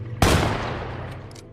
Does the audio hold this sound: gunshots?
yes